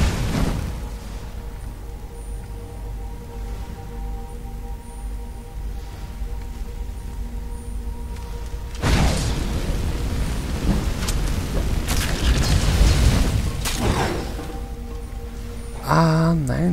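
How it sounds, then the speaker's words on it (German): An exploding pot trap in the video game Skyrim goes off with a sudden heavy boom and a crackling burst, then a second blast near the end, after a stretch of low rumbling game ambience. "das war ja eine Falle, Leute. Da ist ja so ein Topf, ja, explodiert"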